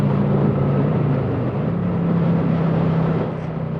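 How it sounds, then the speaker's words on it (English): Kawasaki Vulcan 900 cruiser motorcycle pulling up a hill at low revs, a steady droning engine note with slowly shifting pitch, close and continuous with wind rush over it and no talk. "good torque climbing the hill, no problem at low revs"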